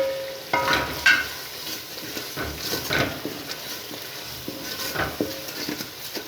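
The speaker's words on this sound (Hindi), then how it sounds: "अब मसाले को 3-4 मिनट भून लेते हैं।" Spices roast in masala in a pan for Punjabi kadhi pakora, giving a steady soft sizzle broken by scraping stirs and a few utensil clinks, close and alone without talk.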